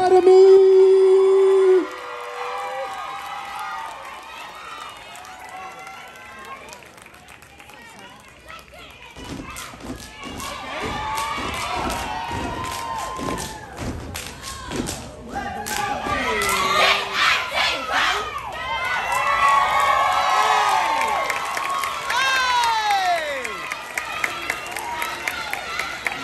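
Crowd at a junior division dance competition at World of Dance Orange County 2022 in Anaheim, California, cheering for a dance crew, with loud shouts and screams swelling and ebbing alongside an announcer and youthful yelling.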